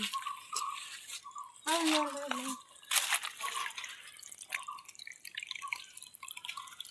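Water drips and splashes in short bursts from a leaking pipe into a water-filled pit, with a voice talking over part of it and a sharper watery burst near the middle.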